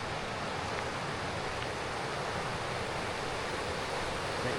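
Pocket water in a Wyoming trout river rushes steadily over rocks, a loud, unbroken broadband roar that fills the scene without pause.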